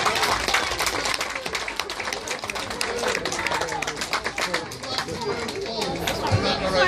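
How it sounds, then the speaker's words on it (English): Crowd at an outdoor parade of the Eastern Harriers and Suffolk Hunt cheering and clapping, a dense, steady wash of applause and chatter close by, mixed with calls and voices throughout. "I think we need a great big cheer"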